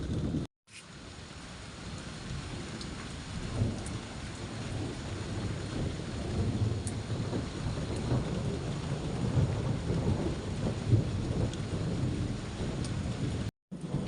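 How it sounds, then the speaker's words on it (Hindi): Steady rain pours down with a soft hiss while low rolling thunder rumbles repeatedly in the background throughout, an evening storm in a mountain village in Pithoragarh, Uttarakhand. "तो लगभग रोज़ शाम को ये बारिश का सिलसिला आजकल चल निकला है"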